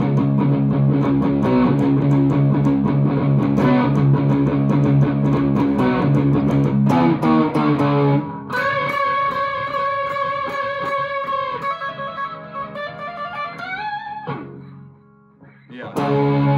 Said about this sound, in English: real quick with the Tube Screamer